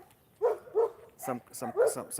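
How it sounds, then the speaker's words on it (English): Several dogs bark in short, distinct yips at a moderate distance, with a man's speech overlapping the later barks. "Hey, dogs are barking here, and I don't know if I'll be able to continue."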